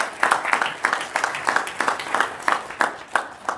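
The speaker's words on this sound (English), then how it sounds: "Give her a round of applause." A small audience giving a round of applause indoors, a steady run of evenly spaced claps at moderate loudness.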